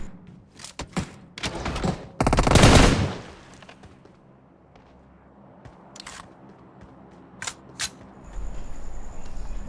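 Gunfire in the mobile battle game PUBG Mobile: quick sharp bursts and single shots, including a loud dense volley in the middle, separated by quieter stretches of game ambience, with no talking.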